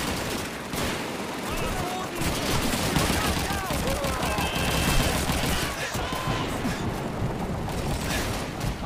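Rapid bursts of gunfire from a weapon in Call of Duty 2, near and loud, running continuously, with intermittent mechanical clatter beneath the shots.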